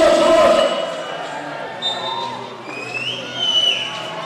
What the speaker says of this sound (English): Give me a shout as well if the crowd noise is coming through loud on the live stream